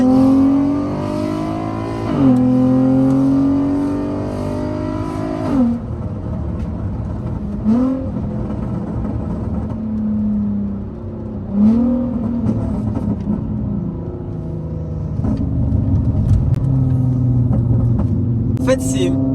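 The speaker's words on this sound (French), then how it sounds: "Ça veut dire que c'est une voiture, je trouve qu'elle a la puissance qu'il faut et elle fait le son qu'il faut." Car engine with threaded coilover suspension pulling hard through a bend, its tone rising and falling in repeated surges, loud and close throughout with no voices.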